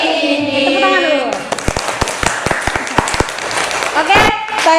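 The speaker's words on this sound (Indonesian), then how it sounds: "Tepuk tangan dulu." Students in a classroom clap their hands in a sharp patterned rhythm, a quick series of crisp, separate claps close by, following a moment of voices.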